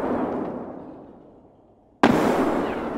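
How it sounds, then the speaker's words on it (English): A grenade blast in Escape From Tarkov: a heavy explosion fades out over two seconds, then a second sharp, loud burst hits with a long rumbling tail, with no talk over it. "I'm gonna chuck a nade, so take care"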